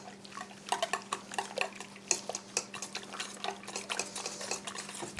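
A spoon clinks and scrapes in a bowl while mascarpone is mixed with cream and sugar, making steady irregular taps and rattles with a faint hum behind them and no talk.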